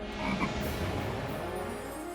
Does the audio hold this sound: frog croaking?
yes